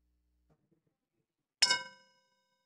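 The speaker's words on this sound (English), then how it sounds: "I'll ring the bell when I need you to come back." One sharp metallic bell ring in a meeting room marking the end of a reflection period, a bright clang with a short shimmering decay after near silence.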